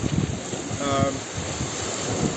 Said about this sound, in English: So the wind hasn't dropped down yet, so I haven't done a lot to camera